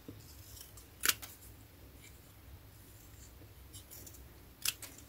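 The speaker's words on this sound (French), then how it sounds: "Bah je vais couper." Scissors snip paper for a square scrapbook layout, two short sharp cuts about three seconds apart over a quiet room background.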